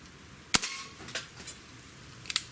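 A Barra 1858 CO2 pistol fires one sharp, close pop, followed by fainter knocks and a second pair of quick snaps near the end, all in a quiet setting.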